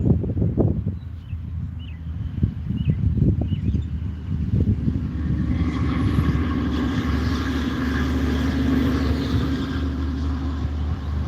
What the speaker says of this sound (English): Now I'm by a road, so you guys are gonna hear every freaking big car that goes by.